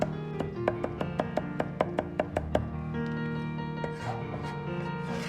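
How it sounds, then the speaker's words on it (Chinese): A kitchen knife chops garlic into paste on a cutting board, a quick run of about a dozen sharp, close knocks in steady rhythm, followed by quieter scraping and light taps. "先拍破，然后再剁成蒜泥"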